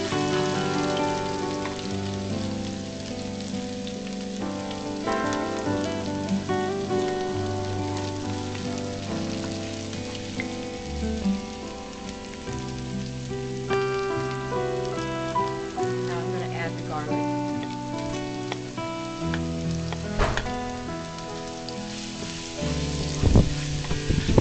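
Beef goto fries in a pan until golden, a steady rain-like sizzle running underneath prominent background music throughout.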